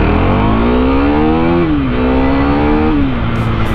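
A Husqvarna Vitpilen 401 motorcycle engine accelerating, a loud, close, steady thumpy drone whose pitch climbs through two gear changes, heard alone.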